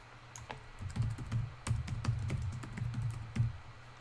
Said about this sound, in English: Wait, why am I typing?